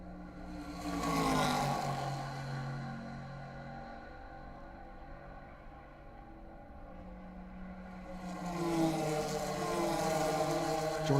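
Race cars pass at Road America during a SpeedTour race, exhaust notes swelling, fading to a distant drone midway, then building again as another car approaches.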